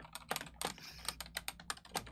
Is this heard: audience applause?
no